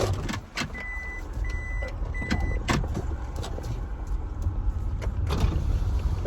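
A car drives along with a steady low road rumble and cabin noise, punctuated by a few sharp clicks and thumps from inside the vehicle.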